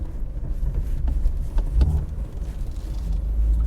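A BMW F80 M3 with Bilstein B16 coilovers drives along, its engine a steady low rumble with road noise from inside the cabin, continuous and fairly loud with no talking.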